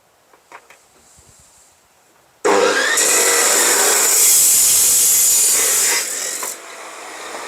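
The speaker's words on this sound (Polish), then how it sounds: "Zwykła piła, taka tarczowa, z tarczą do metalu." A loud circular saw fitted with a metal-cutting disc starts abruptly and cuts steadily through a metal profile with a harsh, high-pitched grinding whine lasting several seconds, then winds down.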